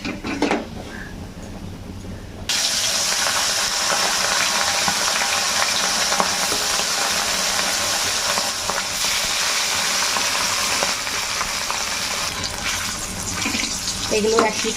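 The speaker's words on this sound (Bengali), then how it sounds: "এবার বাকি মাছগুলো ভেজে নেব" Hilsa fish pieces frying in hot oil in a home kitchen give a steady, loud, hissing sizzle. It starts abruptly after a quieter opening and continues without a break.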